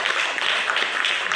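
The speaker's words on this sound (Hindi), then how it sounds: "चाहूँगा कि आप ताली दें" Audience clapping in a hall, a dense even wash of applause from many hands, steady and moderately loud without voices.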